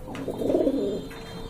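A pigeon gives a single soft, rolling coo up close, brief and fairly quiet, with a faint low background hum.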